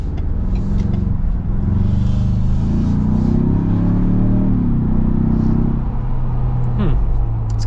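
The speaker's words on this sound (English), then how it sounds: "Yeah, quite a bit of tire noise and road noise and everything." Interior of a Ford Bronco while driving, a loud steady rumble of tire, road and wind noise filling the cabin, with a rising engine tone in the middle and a few faint voices underneath.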